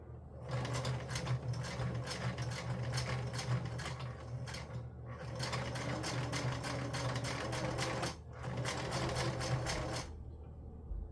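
A sewing machine stitches through paper scraps for a junk journal, running in three steady mechanical bursts of rapid, close needle clatter with brief pauses between, no talking.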